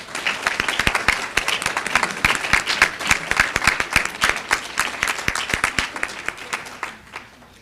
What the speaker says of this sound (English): Graduates, please give your friends and family a big round of applause for their love and support.